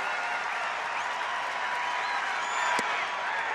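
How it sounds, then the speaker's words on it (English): A stadium baseball crowd on its feet cheers a 2-2 pitch from Darren Oliver on a warm afternoon in Texas, a broad, even wash of applause and crowd noise with one sharp crack near the end. "now the crowd is on their feet again. This time cheering a 2-2 pitch from Darren Oliver."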